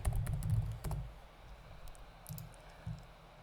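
Quick bursts of keyboard typing, clustered clicks close by, then a few scattered keystrokes and pauses.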